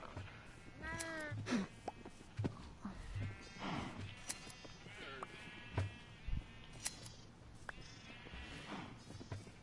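Several sheep bleat in turn in the video game Mince-Raft, wavering calls overlapping against a busy background, with a voice talking partway through.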